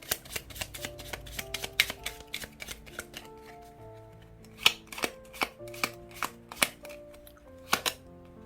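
Lenormand tarot cards are shuffled and drawn by hand close up, making a quick run of crisp riffling snaps, taps and soft slaps with short pauses between bursts.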